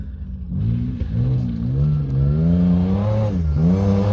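A vehicle's engine revs up steadily as it charges toward a big jump in a gravel pit, a loud, close, rising drone that dips briefly and climbs again with no one talking.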